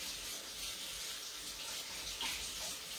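Tap water runs steadily from a faucet as hands are rinsed clean before making marshmallow popcorn balls, a continuous close splashing hiss with small shifts in the flow.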